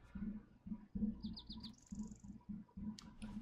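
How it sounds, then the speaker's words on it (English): In the video game DayZ, a bird call sounds faintly in the distance, a few quick chirps followed by a longer whistle, over low rhythmic thumping and background noise. "you guys hear that freaking bird?"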